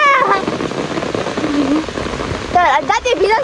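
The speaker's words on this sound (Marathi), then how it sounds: "पाऊस आलेला आहे मस्त छत्री उघड" Steady monsoon rain in the Konkan region pattering on an umbrella, with people talking over it throughout.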